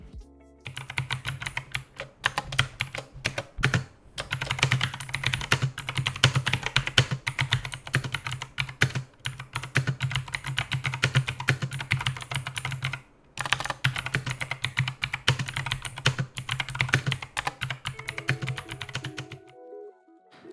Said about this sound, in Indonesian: Dan ini adalah contoh suara ngetik di keyboard ini.